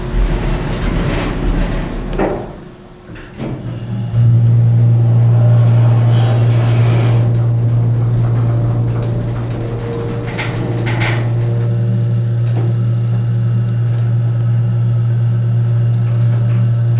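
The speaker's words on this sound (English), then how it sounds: "Pretty good motor." A hydraulic elevator motor at Quail Lakes Plaza in Stockton, California, starts with a clunk and settles into a loud, steady low hum and whine that holds for many seconds, after earlier door rumbling and thuds.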